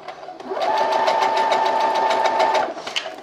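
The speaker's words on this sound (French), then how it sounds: "je commence à coudre droit avec un point d'arrêt" A domestic sewing machine runs a steady straight seam along a fabric belt, its rapid needle chatter starting after a short pause and holding an even, close-up whir for over two seconds before stopping, with no talk.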